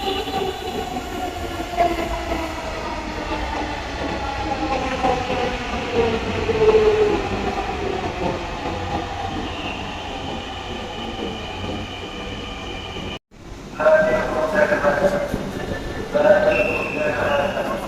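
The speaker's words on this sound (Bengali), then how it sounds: "ট্রেন আসতেছে।" A Dhaka metro train pulls into Shahbag station with a rising electric whine, rumbling wheels and rail clatter, followed by a brief cut and more hum and screeching as it slows, loud and close, with people talking on the platform.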